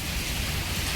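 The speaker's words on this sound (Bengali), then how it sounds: "জোরে বৃষ্টি হচ্ছে।" Heavy, continuous rain falls in a dense, even roar of hiss with no other sounds, heard for about a second.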